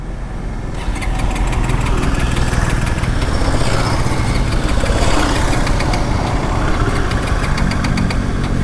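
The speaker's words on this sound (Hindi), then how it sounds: "अब मैं चालू करता हूँ।" A Bajaj Pulsar N250 motorcycle engine fires after a brief quiet moment, then settles into a loud, close, steady idle with a rapid throbbing pulse.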